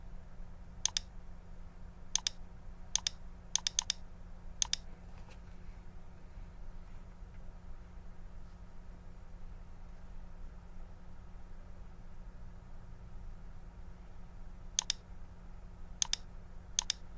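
Sparse clicks from a computer keyboard and mouse come in short bursts over a steady low hum, faint and close, with quiet pauses between them.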